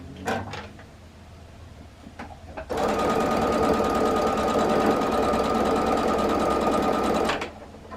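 Sewing machine stitching a quarter-inch seam on a Christmas table runner, a few soft handling knocks, then a fast, steady, close mechanical run of stitching lasting several seconds before halting.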